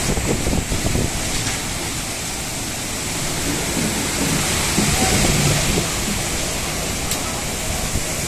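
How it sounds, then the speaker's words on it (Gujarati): Torrential storm rain in Jamnagar, India, driven by strong wind: a dense, unbroken roaring wash of rain and gusts, loud and close throughout. "ભયંકર ધોધમાર વરસાદ ધોધમાર પવન"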